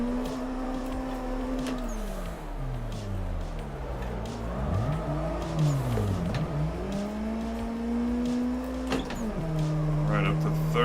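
In a drifting video game, a car engine revs hard and shifts up through the gears in rising, falling sweeps, with a turbo whine and tyre noise. The engine plays loud and continuous throughout, and a commentator speaks over it.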